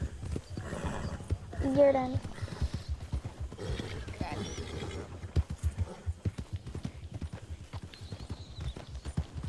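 A black horse in Red Dead Redemption 2 clip-clops with steady rhythmic hooves and gives a brief whinny, while a person talks briefly over the game sounds.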